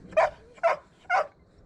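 A pet dog at a full-time RV setup gives three short, whiny barks spaced about half a second apart, moderately close with no talking over them.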